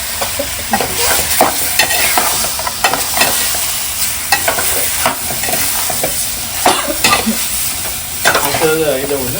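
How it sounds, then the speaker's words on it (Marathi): Tempering sizzles in hot oil as a spoon stirs it, for a Malvani-style fish dish; steady frying crackle runs throughout with repeated scraping stirs close up and loud. "फोडणी दिली"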